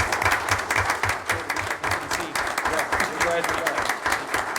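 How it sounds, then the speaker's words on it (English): An audience at a city board meeting applauds, a dense continuous round of clapping throughout, with a voice speaking briefly over it. "I would ask you to join me in recognizing this day and applauding for someone that has served our country"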